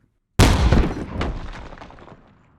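A culverin cannon fires in a single sharp, loud blast that rings out and slowly decays over about two seconds, with no talk.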